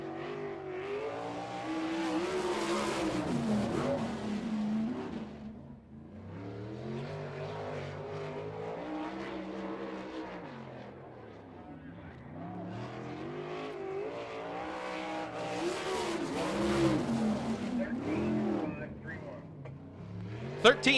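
Jim Dayton's race car, number 2X, laps Fremont Speedway with its engine rising and falling in repeated loud sweeps as it passes. An announcer talks over the engine.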